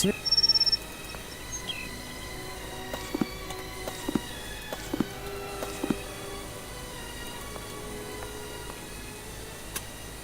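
A strange bird call sounds in the Sherlock Holmes: Nemesis video game, a series of short chirps and tonal whistles scattered over steady insect-like ambience, with a few sharp clicks and occasional footsteps.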